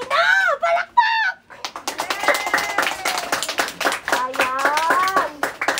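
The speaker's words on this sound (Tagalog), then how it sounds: "Palakpak!" Family members clapping during an outdoor trunk-surprise reunion in Pangasinan, a burst of quick hand claps mixed with excited talking and high voices throughout.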